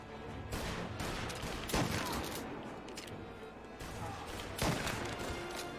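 Gunfire in the video game Mafia Definitive Edition during headshot kills, loud close shots and bursts over a busy dense game soundscape, with a few sharp peaks standing out.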